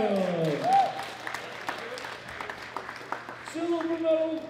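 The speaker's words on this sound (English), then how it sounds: "Big round of applause for Jacob McKinnon." Audience applause rings out at a powerlifting medal ceremony, men's junior 105 kg class, World Classic Powerlifting Championships 2018, as a bronze medallist is announced; a steady patter of clapping sits between an announcer's voice at the start and end.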